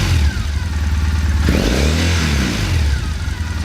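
A Triumph Bonneville motorcycle fitted with a TOR exhaust idles with a deep throbbing burble, then revs up to about 4,000 rpm and falls back, the rising and falling engine note loud and close with no talking.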